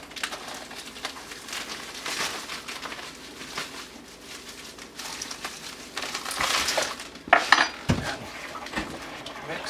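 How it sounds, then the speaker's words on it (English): A spoon scrapes and clinks around a bowl while brown sugar marinade for venison jerky is mixed, a close, continuous stirring with a few sharper knocks near the end. "Mix it up good."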